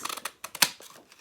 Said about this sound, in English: I'm going to take my scalloped heart punch and I'm going to cut out a Blackberry Bliss